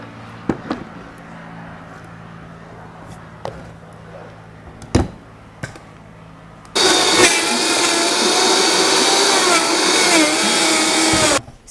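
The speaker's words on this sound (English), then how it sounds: "I'll blend it and see how it tastes." A Vitamix blender whirs loudly and steadily as it blends a raw ginger carrot dressing, starting abruptly after a few sharp kitchen knocks and clicks and running continuously close by.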